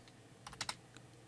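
A few quick keystrokes on a PC keyboard, a hyphen followed by a space, give faint, close clicks in a short cluster, then one last tap.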